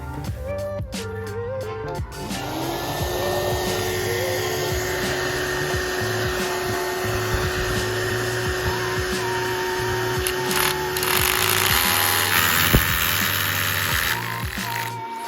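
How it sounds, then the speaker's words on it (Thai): A DeWalt DWH201D dust extraction shroud on a rotary hammer runs connected to a vacuum cleaner, giving a steady loud whine and roar with rapid hammering thuds, heard alone throughout. "ทีนี้นะครับเราก็จะมาลองต่อเข้ากับเครื่องดูดฝุ่นกันดูนะครับ"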